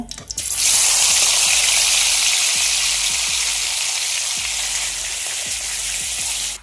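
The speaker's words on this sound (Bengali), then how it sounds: "তেলটা গরম হয়ে গেছে এবার আমি এগুলো ভেজে নিব" Pieces for a pangas fish and potato curry are dropped into hot oil, setting off a loud, dense, continuous sizzle and crackle close by that holds steady to the end.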